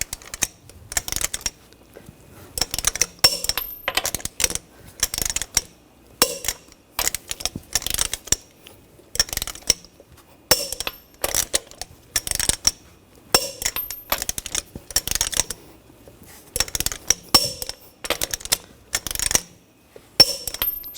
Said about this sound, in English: Now we're going to torque the lug nuts to 140 foot-pounds in a cross pattern to tighten the wheel